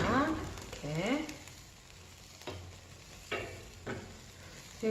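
Seasoned deodeok pan-grills in a frying pan over a gas stove, sizzling steadily and crackling in bursts while someone talks over it.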